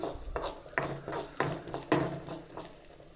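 Black urad dal roasting in a pan while a spoon stirs it, giving a steady series of scraping, rattling strokes about every half second. The sound is close and moderately loud, with no talking.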